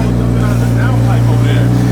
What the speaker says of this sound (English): You hear the exhaust leak?